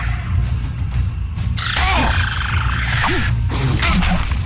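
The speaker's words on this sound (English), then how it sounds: "here comes a Dilo, I think" Dilophosaurus creature in the survival game Ark: Survival Evolved, giving a few short warbling, rising calls over steady game ambience and low rumble, fairly close.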